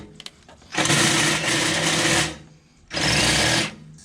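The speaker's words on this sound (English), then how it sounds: "So we're gonna drill this out and put the new nut and bolt through." A power drill whirring in two bursts while drilling out a bolt hole on a Jeep Wrangler, the first longer with a brief dip, then a short pause and a second run, close and loud.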